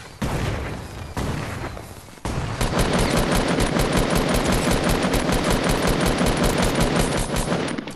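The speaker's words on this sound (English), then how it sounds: "Somebody shooting at us." Fortnite duo gameplay with dense automatic gunfire rattling almost continuously, a few short bursts first and then a sustained rapid stream of loud, close shots.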